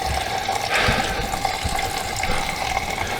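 Water runs steadily through household plumbing lines being flushed after a long cold winter, a continuous broadband rushing with a faint tonal hum, fairly close and alone.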